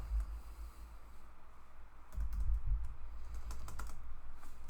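Typing on a computer keyboard with mouse clicks, soft close key taps and clicks over a low steady background hum, denser in the second half.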